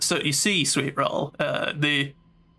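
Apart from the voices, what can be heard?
No distinct noise like a dog, phone or traffic.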